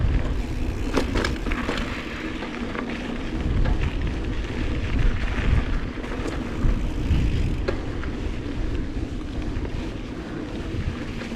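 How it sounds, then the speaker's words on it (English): Wind buffets the microphone during a mountain bike ride on a downhill track, making a continuous loud low rumble with gusty surges and no speech over it. "the wind is blowing through my ears quite hard"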